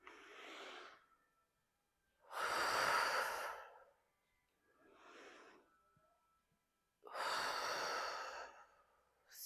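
Steady, audible breathing during a power flow yoga class: four broad breaths alternate between softer inhales and louder, longer exhales, close and alone, with no talking.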